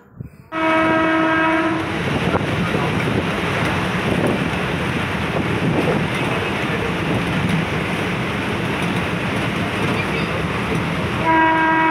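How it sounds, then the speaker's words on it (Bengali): Aboard a moving train, a steady, loud rattle and rumble of the carriages runs throughout, with drawn-out train horn blasts at the start and again at the end. "এই যে এখন যাচ্ছি ট্রেনে"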